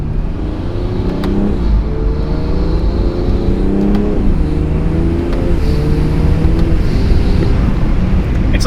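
A loud car engine with an aftermarket intake drones and revs continuously, its pitch rising and falling through several shifts, loudest at peak torque, with wind rumble over the microphone.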